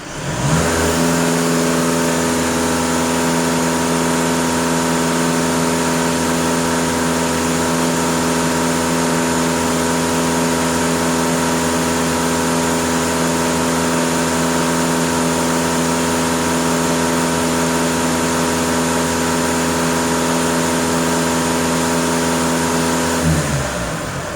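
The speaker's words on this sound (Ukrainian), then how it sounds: "Даю газ пол 2500 обертів." A VW Golf 2.0 TDI 4x4 diesel engine held at a steady raised rev of about 2500 rpm, loud and close, droning evenly for the whole stretch before dropping off at the end, with no voices.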